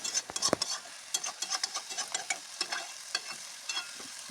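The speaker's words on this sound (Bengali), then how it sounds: "আমি মশলা দেওয়ার পর ভালো করে কষিয়ে নিচ্ছি" Ridge gourd and potato sauté with spices in a pan, a soft frying sizzle running beneath repeated scraping stirs of a spoon against the metal, close and fairly quiet.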